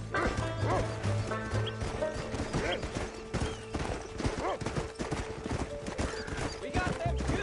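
Horse hooves pound at a gallop in Red Dead Redemption 2, a fast steady clip-clop under continuous game music and a dog barking, with voices speaking over the action.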